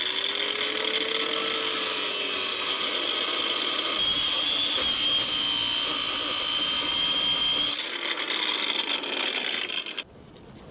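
Power tool, likely an angle grinder, chopping a steel flange during garden railway steelwork: a loud, continuous cutting whine holds steady for about eight seconds, shifts in tone, then cuts off abruptly.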